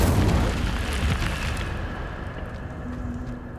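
A single Incendio fire spell cast in Hogwarts Legacy bursts with a loud whooshing blast. It then fades into a rumbling, crackling tail with no voices.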